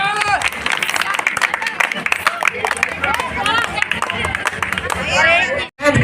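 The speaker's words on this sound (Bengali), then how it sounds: "তাদের জন্য আমরা জোরে হাততালি।" Audience applause at a Saraswati Puja prize-giving event, dense clapping and crowd babble running steadily through the clip, briefly dropping out near the end.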